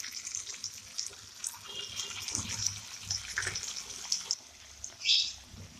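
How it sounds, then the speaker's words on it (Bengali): Water running while bowls are rinsed in a kitchen, an uneven splashing trickle with clinks and a louder gush near the end, close by, no talk. "বাটিগুলো ধুয়ে অল্প অল্প জল দিয়ে দেবো।"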